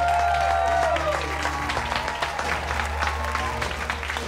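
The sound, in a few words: cooking contestants applauding themselves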